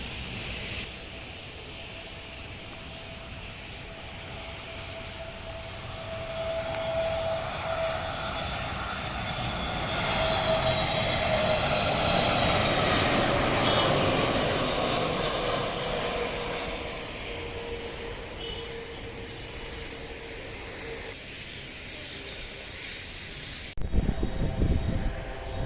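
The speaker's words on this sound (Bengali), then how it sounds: "এই বিমানটি ইন্ডিগো এয়ারলাইন্সের বিমান।" An IndiGo Airbus A320 approaches Dhaka to land, its engine roar swelling from a distant drone to a loud pass overhead, then fading, heard by plane watchers near the airport at Uttara.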